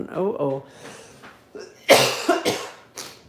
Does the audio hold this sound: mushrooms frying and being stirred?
no